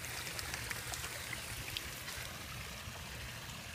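Running water splashes and trickles over a water lily plant as it is rinsed, a steady close wash of spray with small droplet patters and no talk.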